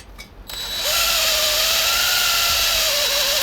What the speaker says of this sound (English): next we're actually going to drill a hole in the elbow, or drill a hole in the fitting